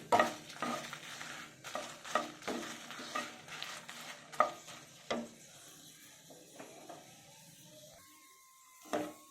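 Food frying in a pan while a spatula stirs and scrapes in irregular strokes, the activity fading to quiet before one last scrape.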